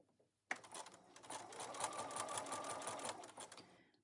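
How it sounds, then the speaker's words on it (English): A sewing machine stitching a welt pocket starts abruptly after a brief silence and runs in a fast, steady mechanical chatter, close and clear, easing slightly near the end. "I want to sew right next to the edge of that triangle without catching anything extra in"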